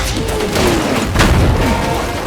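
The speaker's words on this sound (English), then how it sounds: "countless cannons turn toward Gulliver and open fire" A volley of cannons firing in a dramatic scene, with loud booming blasts and rumbling impacts that fill the clip over a dense, dramatic backdrop.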